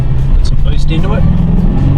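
A Mitsubishi Triton's 4D56 turbo diesel engine drones loudly and steadily as it accelerates under boost, a continuous low rumble with road and cabin noise, while someone talks over it.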